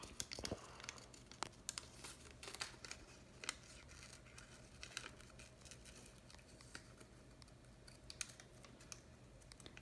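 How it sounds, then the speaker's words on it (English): Scissors cut along the edge of gold foil for a Tanjore painting, giving faint, close snips and crinkly rustling in quick irregular taps, with no talking. "Now take a scissor of it and cut along the side of it."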